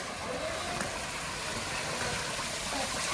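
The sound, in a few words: waterfall water flowing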